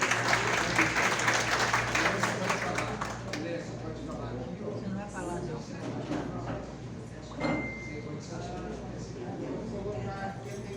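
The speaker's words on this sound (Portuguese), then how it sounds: "Uma salva de palmas, gente." An audience at a poetry congress breaks into applause, loud at first and then thinning into scattered clapping with room noise and some talk underneath, and a steady low hum runs throughout.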